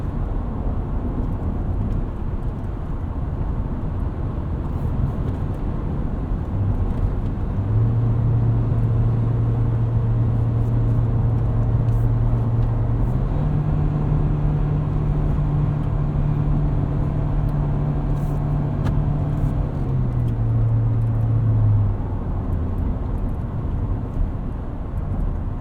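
Steady road rumble and engine drone from a 2024 Toyota Tacoma SR XtraCab with an eight-speed automatic, heard from inside the cab while driving, with a low engine tone rising and falling through gear changes and no talking.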